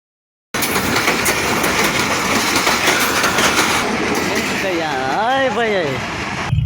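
A train rumbles past at close range, a loud continuous roar with rhythmic clatter of wheels on track, while people talk over it near the end.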